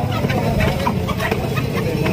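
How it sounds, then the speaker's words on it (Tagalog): Chickens cluck and squawk amid a busy, noisy outdoor background with a low engine hum. "May manok na naman po."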